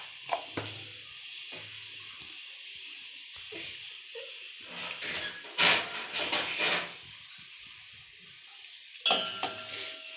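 Mint chutney ingredients with cumin, curry leaves, coriander and turmeric stirred in a hot pan, giving a soft sizzle with intermittent scraping strokes and a few louder clattering stirs, close by with no voices.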